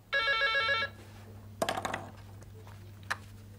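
An old-style telephone bell rings once in a short trill, then a few faint clicks and knocks follow in a quiet room.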